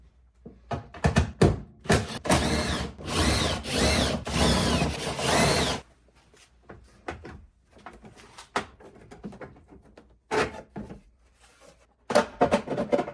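A ratchet or power tool removes bolts from the bumper of a Mitsubishi Eclipse, with a long, loud whirring run, then scattered clicks, clanks and handling, and more short bursts near the end.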